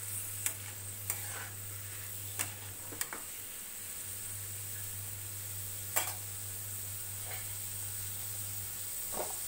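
Paneer keema bhurji is stirred in a pan, a soft continuous sizzle under a low steady hum, punctuated by several sharp spoon taps and scrapes against the pan, close and with no talk.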